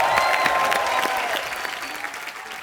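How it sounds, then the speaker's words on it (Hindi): A television studio audience bursts into loud, dense applause on a comedy talk show, a full crowd clapping in unison that holds strong and then eases slightly toward the end. "एक बार ऋषि सर और नीतू मैम के लिए जोरदार तालियां हो जाएं।"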